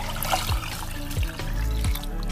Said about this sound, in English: You add in 3 liters of water